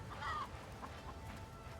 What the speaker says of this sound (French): une autre poule.